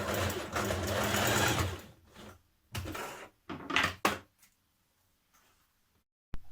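Sewing machine stitching the underarm seams of sleeves on a top, running steadily for about two seconds, then stopping and restarting in short bursts with pauses between.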